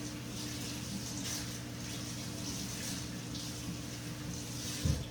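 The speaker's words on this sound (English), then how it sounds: "rinse this first. I'm gonna do that now. No soap, just rinse." Steady running water from a tap rinsing a homemade yarn breeder mop for fish fry, with no soap; a constant close splash continues throughout, with a brief knock near the end.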